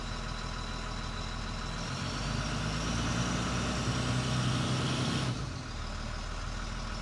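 An abandoned RV's engine runs in drive, a steady mid-to-low drone with a brief swell of strain before it eases back, heard alone with no talking.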